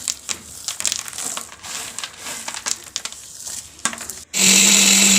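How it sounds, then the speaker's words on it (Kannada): Scattered crunching and clattering of roasted peanuts, then a loud mixer grinder suddenly whirs on near the end, steady and harsh. "ಶೇಂಗಾ ಕಾಳು ಅಷ್ಟೇ ಮಿಕ್ಸಿ ಮಾಡ್ಕೋಬೇಕು"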